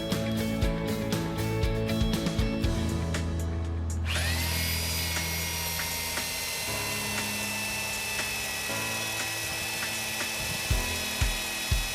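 A power drill bores through heat-treated boron steel wear edge, a sustained high whining grind that starts after a few seconds of rattling tool noise and keeps a steady, loud pitch to the end.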